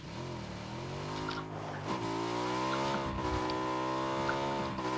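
A car engine in the PUBG video game drones steadily and then revs higher, rising and falling in pitch as it accelerates. The engine is heard alone, without voices.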